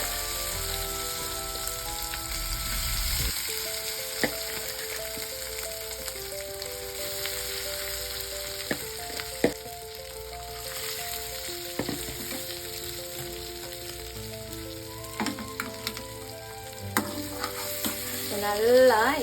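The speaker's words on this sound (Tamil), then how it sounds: "இப்ப நம்ம ஊற வச்ச உருளைக்கிழங்க கொஞ்சம் கொஞ்சமா சேர்த்துக்கலாம்." Soaked potatoes and curry leaves go into hot oil and fry with a loud, continuous close sizzle, broken by the clatter and scrape of stirring.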